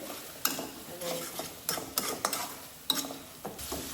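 A spice masala with dried fish is stirred and sautéed in a pan, with repeated scraping and clinking strokes of a utensil in an irregular rhythm over a faint sizzle, close and moderately quiet.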